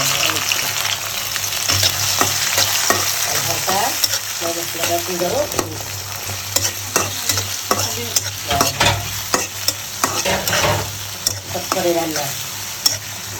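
Onion and tomato fry in a pan, a steady close sizzle broken by repeated stirring scrapes and clinks of a spoon against the pan, with no speech over it.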